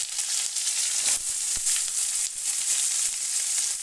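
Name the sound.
capsicum and onion frying in a pan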